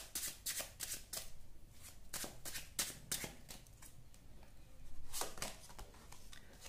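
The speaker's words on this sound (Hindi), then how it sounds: "Let me pull out some more cards और हमें पता लगे कि इनकी एग्जैक्ट अभी फीलिंग्स क्या चल रही है।" Tarot cards slapped and riffled in a steady run of crisp shuffles, close and fairly soft, with brief pauses between bursts and no talking.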